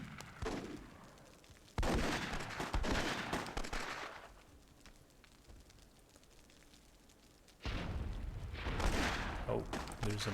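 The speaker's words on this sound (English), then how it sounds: "Oh, there's another cannon shot." Heavy cannon fire booms in the fantasy strategy game Myth II Soulblighter, loud blasts with long rumbling decays, separated by a stretch of quieter background noise.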